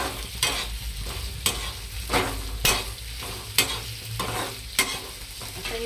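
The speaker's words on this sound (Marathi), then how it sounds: "आणि एकीकडे मी मसाला भाजून घेते" Onion, coconut and garlic masala roasting in a pan for mutton rassa, a steady low sizzle broken by about six sharp scraping stirs at roughly one-second intervals, close and moderately loud with no talking.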